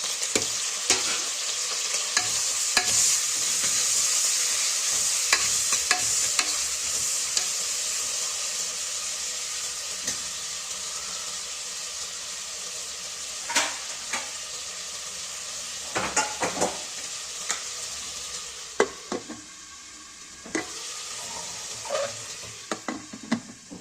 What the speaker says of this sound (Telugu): ఇంకా ఇందులోనే కొంచెం కరివేపాకు, అలాగే టమాటాలు కూడా వేసేస్తున్నాం.